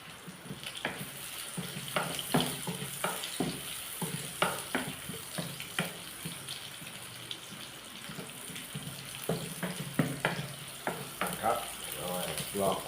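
Garlic frying in hot oil with a steady crackle and intermittent sharp sizzling pops, close by, with faint running-water and kitchen clatter mixed in and a voice speaking at times.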